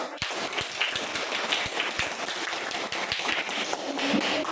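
Students clapping together in a classroom at the close of a group presentation, a dense, steady patter of many hands that carries on for several seconds with a few louder claps standing out.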